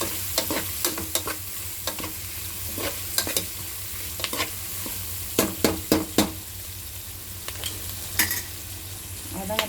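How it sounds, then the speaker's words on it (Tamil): Onions sautéing in a pan toward a light golden colour: a steady background sizzle punctuated by frequent sharp clacks and scrapes of a stirring spoon in uneven bursts, close-up with no talking. "வெங்காயம் நல்லா வதங்கிட்டாங்க. வெங்காயம் இன்னும் கொஞ்சம் வதங்கணுங்க."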